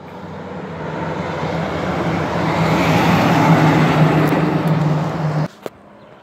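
A black 2015 Freightliner Cascadia truck rolls past on a road in Blue Lake, California, its broad engine and tire roar building steadily, peaking near the middle, then cutting off abruptly near the end.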